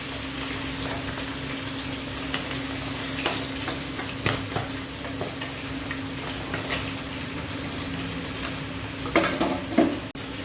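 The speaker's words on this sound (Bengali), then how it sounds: "সব মাছগুলো আমি ভালো করে ভাজা করে নিচ্ছি।" Fish pieces frying in hot mustard oil in a pan, a steady close sizzle with occasional stirring and utensil clinks, no talk.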